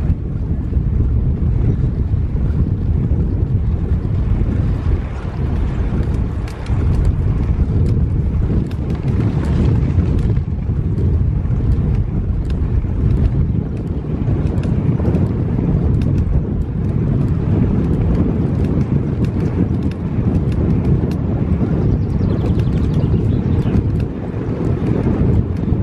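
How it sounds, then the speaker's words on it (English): Strong, steady wind buffets a cyclist's microphone while riding into a headwind on a flat road in France, a loud continuous low roar with rumbling gusts throughout and no talking. "Got a headwind actually,"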